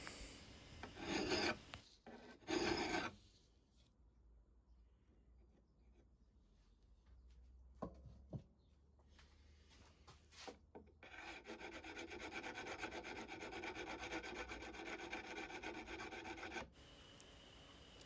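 A steel file rasps back and forth along the edge of a pair of ball-and-claw carpenter's pincers, quiet and close, with a few louder scrapes at first and a steadier run of strokes in the second half.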